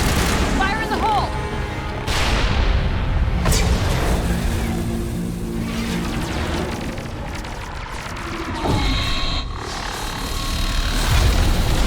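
An explosion in the Mass Effect video game: heavy booms and gunfire-like blasts, with sharp impacts near the start and a rumbling, roaring mix that swells again toward the end.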